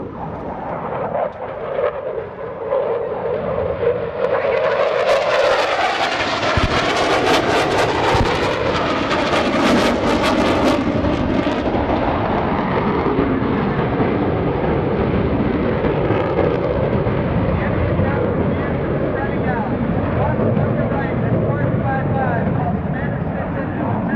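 Military jets of a two-ship flight roar in on an attack run at a naval air station airshow fleet air power demonstration, a loud sustained engine rumble that swells and peaks midway, with an announcer's voice over it.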